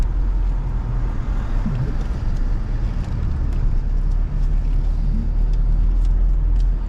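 A car drives through the streets of Paphos, Cyprus, past the top of King's Road: a steady low road rumble and engine hum with faint wind, continuous and fairly close throughout.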